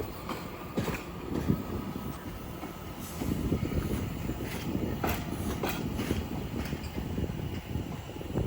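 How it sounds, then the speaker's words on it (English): A Class 710 electric train on the Lioness line pulls into Watford Junction on its terminating run from London Euston. Rumbling wheels and steady train noise are heard at mid distance, with faint clicks and squeals from the rails. "incoming now will be a terminating Lioness line service from London Euston, which is in the form of 710 264"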